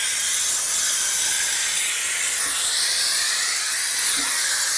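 A Polti Vaporetto steam cleaner sprays steam onto a glass window, giving a loud, continuous close-up hiss that holds steady from start to finish.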